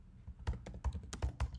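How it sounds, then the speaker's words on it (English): A short burst of keystrokes as a command is typed on a computer keyboard, several distinct close clicks in quick succession in a quiet room. "I'll type this command,"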